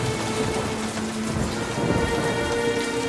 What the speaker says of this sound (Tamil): ஒரு நேரம் மழை விடாம பெஞ்சிட்டு இருக்கு.